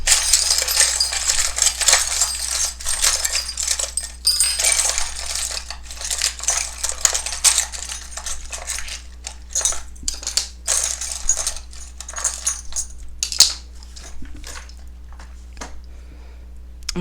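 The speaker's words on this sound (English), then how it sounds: "I just shuffle several times until I feel like it's time to take out however many handfuls" Small rune charms shuffled by hand, a dense run of clicking, clattering taps like coins or pebbles knocking together, close and steady for the whole stretch with brief pauses and no talk.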